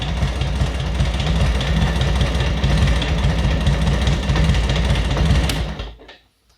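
A 1942 Harley-Davidson WLA motorcycle engine runs with a steady, loud, low throbbing beat up close, then cuts off abruptly near the end, leaving near silence.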